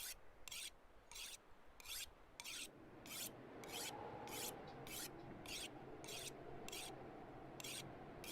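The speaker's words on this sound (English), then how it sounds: "We're going to dump this entire whetstone into this hatchet." A whetstone is rubbed along a hatchet blade in regular rhythmic strokes, each one a bright rasping scrape, repeating about every half-second against a soft rushing background. The sound is fairly faint and steady, with no voices.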